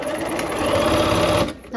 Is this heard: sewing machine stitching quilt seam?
yes